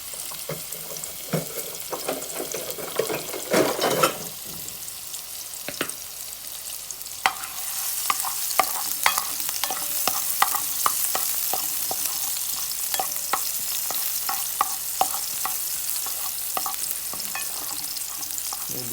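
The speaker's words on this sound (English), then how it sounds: "the first thing you're gonna do is you're gonna saute" Onions sautéing in oil in a pan, stirred with repeated scrapes and taps. The sizzle swells into a loud, steady hiss partway through, with no talking.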